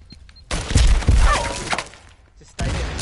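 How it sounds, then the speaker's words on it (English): Gunfire from an enemy blind firing in the video game Firewall, loud, dense bursts of shots starting abruptly, cutting out briefly, then resuming, with no talk. "Watch out, he's blind firing."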